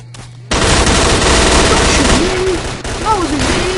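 Sustained automatic gunfire from the player's weapon in the video game STALKER: Call of Pripyat, a loud continuous burst of rapid shots lasting several seconds, with brief game voice sounds and whistling tones mixed in near the end.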